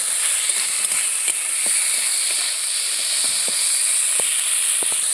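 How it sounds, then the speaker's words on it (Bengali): Small soybean chunks sizzle steadily in hot oil in a pan, a dense close hiss broken by occasional sharp pops and stirring clicks. "সোয়াবিনগুলো দিয়ে দেব সোয়াবিনগুলো ভালো করে ভেজে নেব"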